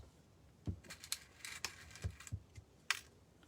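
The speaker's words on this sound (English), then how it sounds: "It cuts no problem," Scissors trim metal ribbon on a DIY rustic birdhouse, a series of faint, sharp snips and crinkly clicks spaced irregularly, close and quiet, with no voices.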